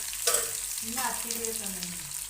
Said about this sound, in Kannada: ಶುಂಠಿ ಹಾಕಿದ್ದೀನಿ ಮತ್ತೆ ಉಳಿದಿರೋದು ಚಕ್ಕೆ ಲವಂಗ ಮತ್ತೆ ಒಣಮೆಣಸಿನ್ಕಾಯಿ ಇದಿಷ್ಟನ್ನು ಹಾಕ್ಬಿಟ್ಟು ಚೆನ್ನಾಗಿ ನಾವು ಇವಾಗ ಫ್ರೈ ಮಾಡ್ಕೋಬೇಕು